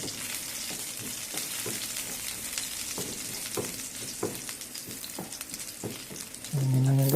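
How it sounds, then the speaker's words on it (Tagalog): Garlic sautés in a pan with a steady sizzling frying hiss and scattered crackles, joined near the end by a louder clattering noise. "gisa muna tayo dito ng ating bawang"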